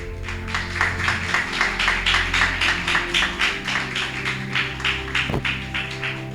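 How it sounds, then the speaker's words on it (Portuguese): A church congregation applauding during an evening service, rhythmic clapping that pulses steadily in regular bursts over a sustained background tone, moderately loud and continuous. "Pode aplaudir a Jesus nessa noite."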